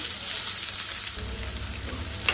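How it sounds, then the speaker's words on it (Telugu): Onions added to hot oil with curry leaves, a steady, close sizzle that swells as they hit the pan, with a light clink at the end. "ఉల్లిగడ్డలు వేసుకుందాం. ఉల్లిగడ్డలు వేసుకున్నాక వేగినాక"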